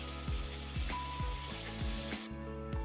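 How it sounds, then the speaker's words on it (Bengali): Onions sizzle quietly in oil as a utensil scrapes the pan in a regular rhythm, roughly twice a second. "পেঁয়াজগুলো কিছুক্ষণ ধরে একটু নাড়িয়ে চাড়িয়ে হালকা করে ভেজে নেব"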